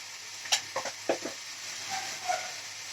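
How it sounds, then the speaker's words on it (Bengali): Ground spices (chilli powder, cumin powder and salt) fry in a pan with a soft constant sizzle, punctuated by a few distinct spatula scrapes and clinks in the first half; no speech. "এই মশলাটা আমার ভাজা ভাজা হয়ে গেছে"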